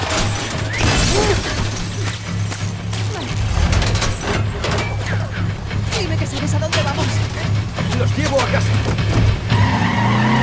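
A police car in Wolfenstein: The New Order drives hard, its tires skidding and squealing through repeated slides. Crashing impacts and a steady engine drone sit under a voice talking.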